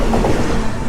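A freight train rolls along the rails on an Indian railway line, giving a dense, steady rumble and clatter of wagons heard close up, with no voices.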